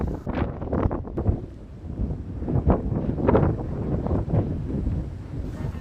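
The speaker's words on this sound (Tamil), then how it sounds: "பயங்கரமாக காற்றடிக்குது." Strong sea wind buffeting the top deck of a passenger ship at sea between Chennai and the Andaman Islands, loud gusty roaring and rumbling against the microphone throughout, with no talk.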